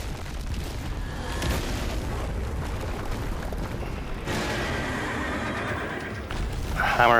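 Hammerhead horse enemy in the video game Stellar Blade, loud strained neighing amid rumbling, booming combat noise, with a shrill whinny rising near the end.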